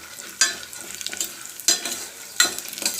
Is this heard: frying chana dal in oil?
yes